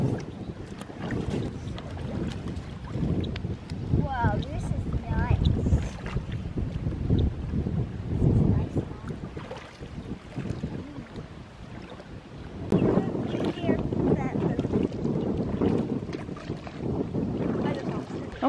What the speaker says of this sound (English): It's very windy today and everything is just blowing, blowing, blowing.